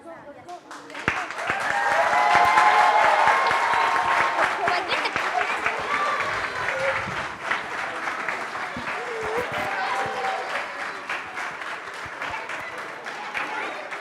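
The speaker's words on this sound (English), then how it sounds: "Good job, first graders. One more round of applause." An audience applauds a group of first graders, and the sustained clapping swells quickly, then slowly thins out over several seconds. Voices can be heard mingling with the applause.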